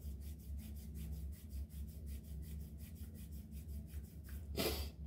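Hands rub briskly up and down both sides of the nose in a qigong facial routine, a close, regular rhythmic scraping of skin repeated about twenty times, ending in a louder breathy snort.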